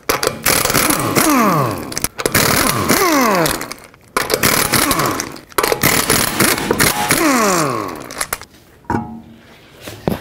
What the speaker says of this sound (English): let's remove all four lug nuts and take this wheel off with a 19 millimeter socket